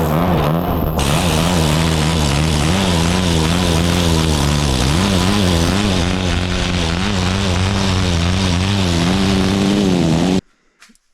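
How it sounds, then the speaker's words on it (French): A homemade 145cc twin-cylinder engine runs loud and steady with a wavering, revving drone, then cuts off abruptly near the end. "je vais la redémarrer, je vais te mettre un extrait pour te montrer que bah ça crache quand même pas mal d'étincelles bizarres"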